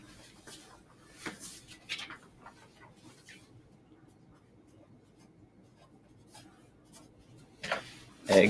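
Pen or pencil scratching on paper while egg weights from a lab are recorded, with faint intermittent strokes in a quiet room and light talk nearby.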